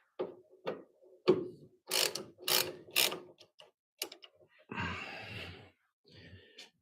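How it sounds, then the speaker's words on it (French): A ratchet wrench with a 17 mm socket makes a series of short, close ratcheting bursts in an irregular rhythm, with a longer grinding pass near the end. "Clé de 17."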